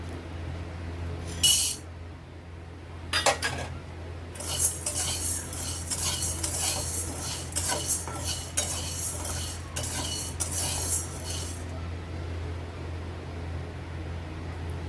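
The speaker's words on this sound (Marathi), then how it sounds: "आता आपण भाजणार आहोत शाबू." Sago pearls dry-roasted in a pan while being stirred with a metal spoon, bursts of scraping and rattling strokes starting and stopping irregularly over a faint steady hum, close and fairly quiet.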